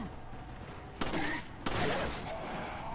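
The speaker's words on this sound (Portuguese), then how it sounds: "Vocês vão dar um tiro na porta." Two sharp pistol gunshots at a door in the video game Resident Evil 4 ring out about half a second apart, each followed by a brief noisy tail, over a steady background hum.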